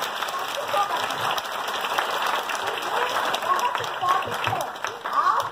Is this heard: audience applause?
yes